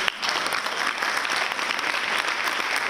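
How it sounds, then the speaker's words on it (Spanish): Conference audience at a CLACSO academic event in Medellín gives sustained, dense applause for the speaker, a steady roar of many hands clapping throughout, close and unbroken with no talk over it. "eso es un aplauso para el maestro."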